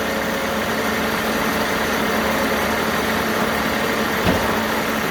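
A Timberking 2220 sawmill's engine idles steadily as a log is turned, giving a continuous low rumble at constant level throughout with one brief knock near the end.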